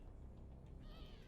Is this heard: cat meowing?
yes